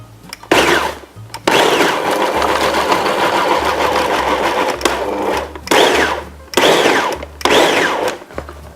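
Shrimp gets pulsed in a food processor for homemade shrimp burgers, the motor whirring loudly in several bursts of varying length separated by brief pauses, with no talking.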